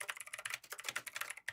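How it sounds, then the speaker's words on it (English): Fast, uneven clatter of keys on a computer keyboard, close and fairly quiet, with a brief pause near the end before more keystrokes. "This is literally me typing."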